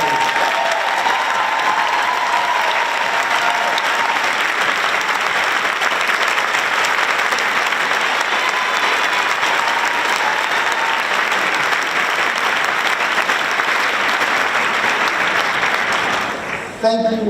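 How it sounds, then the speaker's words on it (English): A large audience at a school district staff conference gives retiring colleagues a long, dense, sustained round of applause. It stays loud and even throughout before trailing off right at the end. "please stand so we can applaud you"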